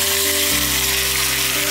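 Meat sizzles loudly as it drops into a small pot of oil and sugar caramelized to golden brown, a steady dense frying hiss that continues alone without talk.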